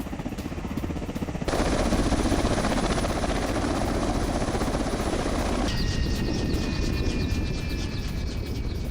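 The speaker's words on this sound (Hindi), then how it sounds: "यूक्रेन के Mi-8 हेलीकॉप्टर से यूक्रेन की गश्त हैवी मशीन गन के साथ" A Ukrainian Mi-8 military helicopter on patrol near Odesa flies close by, its loud rotor and turbine drone steady throughout, growing fuller after a moment and later shifting as it passes.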